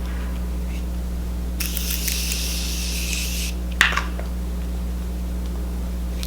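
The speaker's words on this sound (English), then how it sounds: "I'm going to be using my Morphe setting spray, the continuous setting mist." A hissing burst of fine spray from a makeup setting mist lasts about two seconds over a steady low hum, followed by a brief soft click and rustle.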